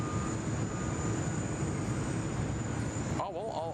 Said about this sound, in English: We might even have two Atlas Air departures.